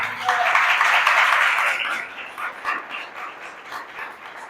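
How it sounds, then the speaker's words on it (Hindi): Church congregation applauds together in a dense burst of clapping that starts loud and fades over a few seconds, with faint voices underneath. "के लिए तालियां बजा दीजिए।"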